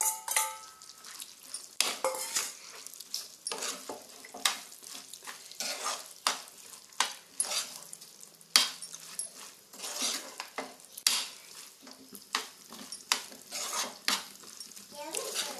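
Coconut pieces frying in ghee and stirred in a metal pan: a busy run of scraping and clinking strokes over a bright sizzle, close and fairly loud, continuing steadily throughout with no talk.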